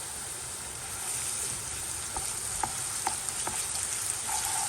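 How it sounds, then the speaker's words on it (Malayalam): Sliced onions that have browned fry together with a spoonful of ginger garlic paste, making a continuous close hiss of frying with several sharp spatula taps and stirring clicks partway through, no voices. "അതിലേക്ക് നമുക്ക് ഒരു സ്പൂണ് ജിഞ്ചർ ഗാർലിക് പേസ്റ്റും കൂടി ആഡ് ചെയ്യാം."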